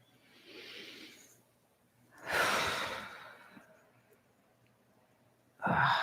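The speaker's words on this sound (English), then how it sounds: "Make sure you're still breathing slowly and deeply." Slow, deep breathing during a guided meditation, a soft drawn-out exhale followed by a louder, longer breath and another starting at the end, close and quiet with no talking.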